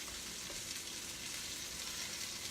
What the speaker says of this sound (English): I don't know if you can hear the sizzle.